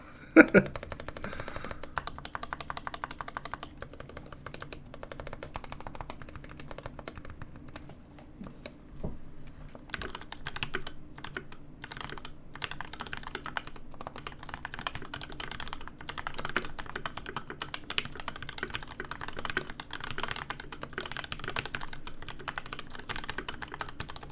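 Rapid, fairly quiet clacking of typing on a Honeyboard60 mechanical keyboard fitted with different keycaps, a continuous patter of keystrokes running through the whole stretch with a short louder burst near the start.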